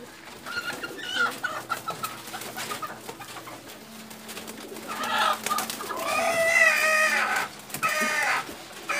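Pigeons in a loft at feeding time, with soft repeated cooing and low warbling calls, close by and growing louder toward the end, alongside rustling and faint background noise.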